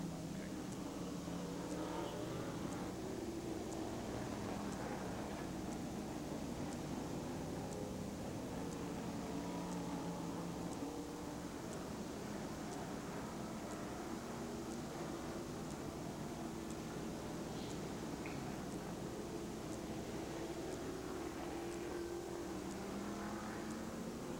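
NASCAR Winston West stock cars race at Tucson Raceway Park in January 1997. Their engines make a continuous muffled roar that swells as cars pass, with faint commentary talk under the noise.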